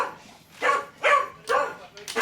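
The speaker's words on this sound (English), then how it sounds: "That's the dog seeing the sheep on the telly" A dog barks at sheep on a TV screen, giving four short, moderately loud barks in a steady rhythm, close by in a quiet room.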